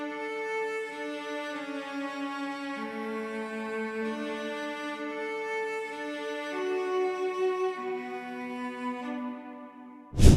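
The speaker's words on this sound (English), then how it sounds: "So the next sound we got is this cello" Sampled cello from the Nucleus orchestral library plays sustained, legato notes in a steady melodic line, closing with a brief louder hit at the end; no voices.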